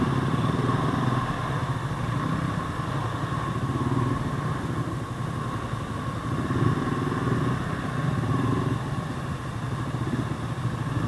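A motorcycle engine runs in early-morning traffic on a Manggahan, Pasig road, a steady nearby rumble that swells and eases over a constant background of traffic noise.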